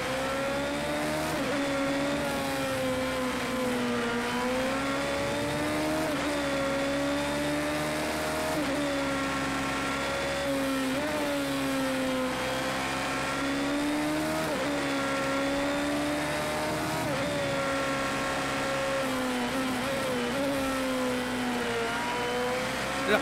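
Race car engine in Project CARS 2 holding a loud, steady high-revving drone through a lap, pitch rising and dipping with repeated gear shifts, with occasional faint tire slide.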